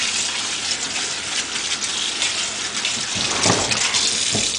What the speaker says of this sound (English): we just want to rinse them under cold water just so that they stop cooking